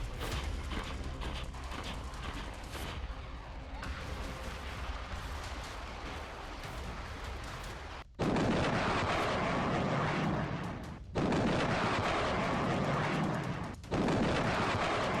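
Russian army shelling in Ukraine produces heavy artillery booms and rumbling gunfire, starting with scattered sharp blasts and then loud, dense bursts broken by abrupt cuts.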